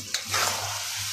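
Chicken frying in oil in a pan over full flame is stirred, a brief scrape of the spoon over a steady close sizzle.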